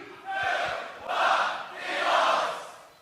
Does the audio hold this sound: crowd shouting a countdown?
yes